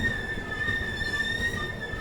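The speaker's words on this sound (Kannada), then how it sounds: "ಗೋಲ್ ಗುಂಬಜ್ ಎಕ್ಸ್ಪ್ರೆಸ್ ಈಗ ಎಂಟ್ರ್ ಆಗೈತೆ ರೀ" Golgumbaz Express pulls into Basavana Bagevadi Road station with a continuous low rumble and a sustained high whine or squeal held over it, close and fairly loud.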